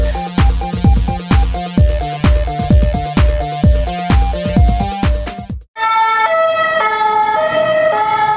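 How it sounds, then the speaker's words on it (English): A siren with a weak battery, loud and close, starts as a fast, rhythmic pulsing pattern of clipped blasts, then breaks off and shifts into a stepping two-tone wail. "Sounds like that siren could use a new battery."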